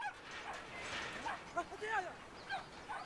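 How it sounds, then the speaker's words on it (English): A small dog in the video game Brothers: A Tale of Two Sons barks in several short, high yaps, quiet and spaced over faint game ambience. "Look at him cower from that little dog."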